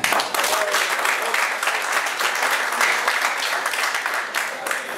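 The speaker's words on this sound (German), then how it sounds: "Ganz herzlichen Applaus für den Chefcoach Bernd Reinhardt" Warm applause for head coach Bernd Reinhardt at a post-match sports press conference: dense, loud, continuous clapping from a crowd in the room, sustained for several seconds without letting up.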